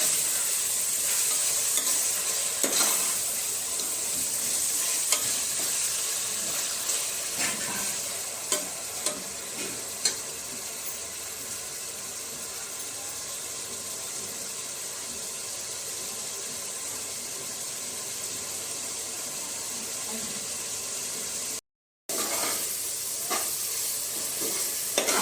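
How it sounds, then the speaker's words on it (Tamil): Tomatoes with salt sautéing for chicken biryani make a continuous hissing sizzle, broken by scattered clicks and scrapes of stirring and a brief dropout near the end. "தக்காளி நல்லா குழஞ்சு வர வரைக்கும் வதக்கணும்."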